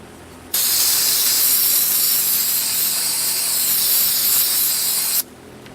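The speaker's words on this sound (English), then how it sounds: "we'll just take our Berrymans and spray through there" A continuous spray of Berryman aerosol cleaner into a chainsaw during servicing hisses loudly and close for about five seconds, starting and stopping abruptly.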